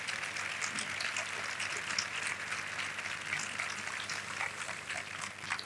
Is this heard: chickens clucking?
no